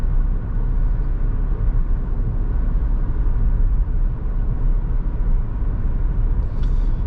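A car descending a downhill road on a driving-test route, the engine braking in a steady, loud low rumble that continues evenly throughout with no talk.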